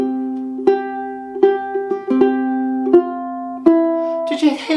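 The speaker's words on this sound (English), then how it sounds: "we're going to use something called finger rolls, sometimes called a rolled strum." Ukulele chords played fingerstyle with finger rolls, each chord rolled so the strings sound in a quick purring ripple; about half a dozen close, ringing chords arrive at a steady pace, with a short burst of scratchy noise at the end.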